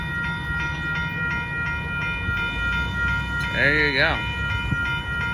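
Amtrak Texas Eagle passenger train heading southbound at a road crossing in Austin, Texas, a steady rumble of passing cars with a loud horn blast near the end while a person speaks briefly.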